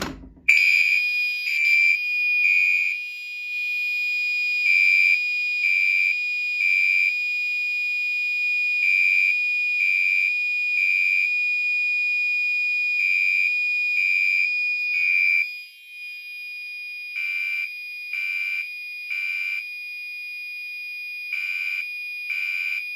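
A fire alarm set off by a Notifier pull station sounds loud and alone: a steady high electronic tone with repeated pulsed beeps that pauses briefly mid-way, then keeps pulsing.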